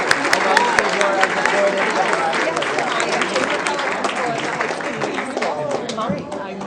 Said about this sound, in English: please join us all in a round of applause on behalf of all of our honorees